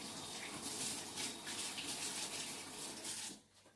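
Water gushes steadily from a kitchen tap while a cake-decorating utensil is rinsed, a close continuous splash that cuts off near the end.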